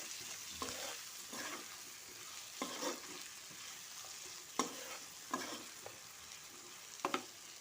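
Spices, turmeric, salt and chili powder, being stirred into flat beans and eggplant frying in a pan: a steady soft sizzle broken by scattered scraping strokes of a spoon, with no voices.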